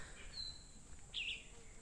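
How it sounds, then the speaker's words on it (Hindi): Birds chirp faintly at a forest ashram, two brief high calls standing out against a quiet, hushed background. "अब चिड़ियों की आवाज़ आपको शायद सुनाई पड़ रही हो।"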